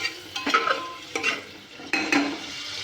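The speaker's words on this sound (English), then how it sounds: "I'll stir this for some time." Shahi jeera and bay leaf stirred in a hot pan with a light sizzle, three distinct scraping strokes of a utensil against the pan standing out close and clear.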